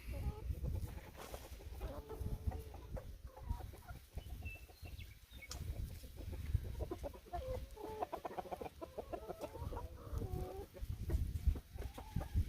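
Backyard chickens cluck and murmur steadily while scratching through a compost pile, a busy close flock with overlapping soft calls and occasional louder clucks throughout.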